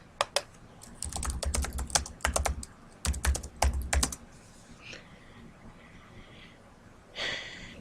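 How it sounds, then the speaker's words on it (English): Fast bursts of clicking keystrokes on a computer keyboard, several quick runs separated by short pauses, close up, followed by quieter rustling and a brief breath-like sound. "type in Preview Worksheet"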